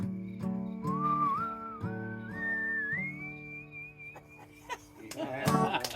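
A person whistles a steady, gliding tune that climbs gradually in pitch, close and clear over a rhythmic background accompaniment, ending in a short burst of noise.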